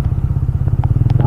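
A Benelli Leoncino 250 motorcycle idling close by, its single engine throbbing in a fast, even pulse with a few light mechanical clatters over it.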